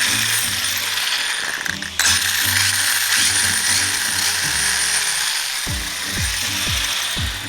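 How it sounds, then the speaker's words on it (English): The brushless motor of a 1/10 HSP 350Z RC drift car whirs nearby, with a steady high hiss over pulsing low gear-like grinding and several rising-falling revving sweeps near the end. "Let's go ahead and hear the motor itself."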